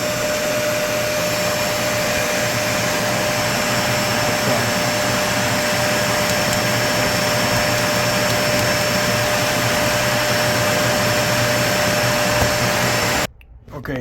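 A Dyson vacuum cleaner with brushes that don't spin runs at a steady loud whine with a broadband roar, unchanging for about thirteen seconds before cutting off abruptly near the end.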